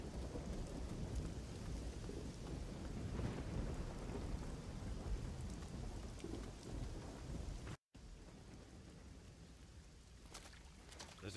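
Thunderstorm weather in the video game Risen 2: Dark Waters: steady heavy rain hisses throughout, with rolling thunder swelling, then a brief cut and a softer downpour afterward.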